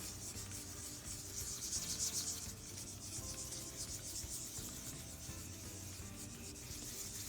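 A waxed apple's skin is rubbed in circular strokes, a soft continuous scuffing and sanding sound, faint and close, with no one talking.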